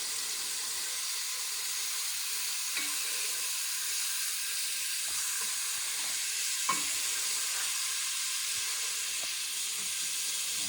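Fat rendering in olive oil in a pan as the base for a bolognese sauce, a continuous close sizzle and hiss with a few soft clinks of stirring.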